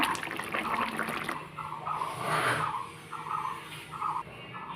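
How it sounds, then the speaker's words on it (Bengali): Bata fish curry cooked with data stalks is poured out of the pan, giving a soft continuous liquid splash and trickle with a few faint clinks, no voices. "তো দেখো ঝোলটাকে ঢেলে নিচ্ছে"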